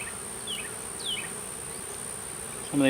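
Honeybees buzz softly and continuously in an open hive during a frame inspection, with a few individual bees droning past close by and a brief sharper sound at the end.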